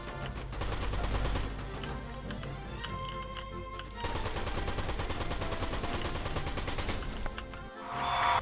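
Rapid gunfire from a Fortnite match rattles in long, fast bursts over game music and effects, loud and close, broken by a short pause before the shooting resumes.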